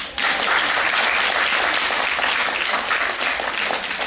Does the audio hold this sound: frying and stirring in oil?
no